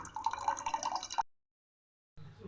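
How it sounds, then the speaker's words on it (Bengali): Water from a green coconut pouring into a glass, a close bubbling, trickling stream that stops abruptly, then a brief faint sound after a moment of silence. "আর ডাবের জলটা বের করে দিচ্ছি"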